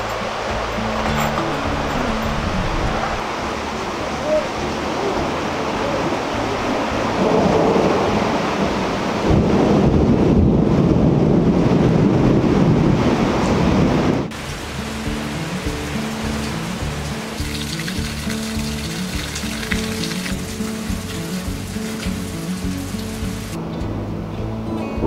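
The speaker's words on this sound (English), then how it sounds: "Looks like we're about to have our first storm with the new deck." A thunderstorm with heavy rain breaks over a newly built wooden deck. Rumbling thunder rolls through a steady wash of rain, and the downpour grows louder midway before easing back to a constant patter.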